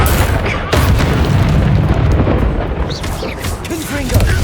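Bombarda blasting spell in the video game Hogwarts Legacy, a heavy, loud explosive rumble that sustains like rolling thunder, with a voice briefly heard over the roar near the end.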